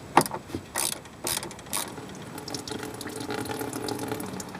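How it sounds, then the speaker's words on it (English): Coolant water drains from a car radiator petcock in a steady trickle, preceded by a few sharp metallic clicks from a tool underneath the car. "And now we'll drain that water out of the cooling system."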